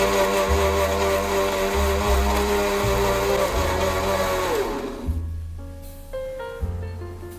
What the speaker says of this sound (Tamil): நம்ம கட் பண்ண மாம்பழ துண்டுகளை ஒரு மிக்ஸி ஜாரில் சேர்த்துக்கலாம். இது கூடவே 2 டேபிள் ஸ்பூன் அளவுக்கு சர்க்கரையை சேர்த்துட்டு நல்லா கிரைண்ட் பண்ணிக்கலாம்.